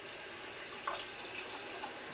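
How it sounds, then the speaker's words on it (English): Warm tap water running into a sink while a makeup brush is wetted, a faint, steady hiss of flowing water with slight splashes. "So I wet my brush with warm water."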